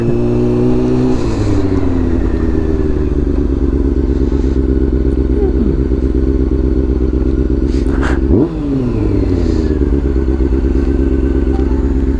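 A motorcycle rolls up close and loud, its engine droning steadily, dropping in pitch as it slows, then revving briefly before settling back to a steady idle, with no talking.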